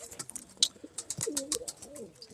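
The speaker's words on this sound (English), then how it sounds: "Got all these pigeons." Pigeons, including Medinas, in a loft give soft throaty coos and rustling calls, close by and fairly quiet, with no talking.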